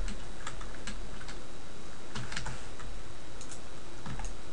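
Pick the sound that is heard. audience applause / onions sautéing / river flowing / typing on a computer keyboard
typing on a computer keyboard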